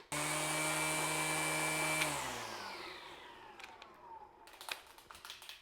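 A Skil PWRCore 40v string trimmer runs steadily at fast speed with a loud, close, high whine for about two seconds, then winds down and fades out, leaving faint clicks and light handling sounds.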